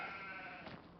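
A single short sheep bleat in a farming video game, fairly clear and close, with a slightly synthetic, compressed quality.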